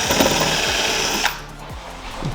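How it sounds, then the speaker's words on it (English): A power drill boring 10mm holes into a car's front splitter wing, a loud, close, continuous whine that steps down in pitch partway through. "going to put 10mm holes in the exact same spot"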